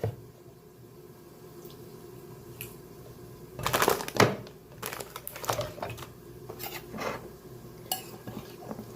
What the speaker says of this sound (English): So now I will soak this in some white vinegar.